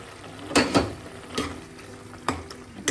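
Pumpkin mulakooshyam curry being stirred in a pan, with a few separate scraping spoon strokes over a faint sizzle, close and moderately loud, and no speech.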